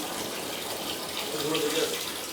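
Water runs from a tap in a steady, close splashing stream, with faint voices murmuring beneath it.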